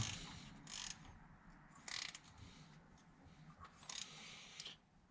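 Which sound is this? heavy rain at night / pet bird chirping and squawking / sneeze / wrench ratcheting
wrench ratcheting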